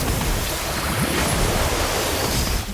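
Orb of Water spell effect in the Harry Potter: Magic Awakened mobile game, a steady, loud rushing wash like surf and wind that fills the whole moment without pause.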